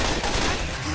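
Left 4 Dead 2 gunfire rattles in a dense, continuous burst of rapid shots, loud and close, filling the short moment with no clear voice over it.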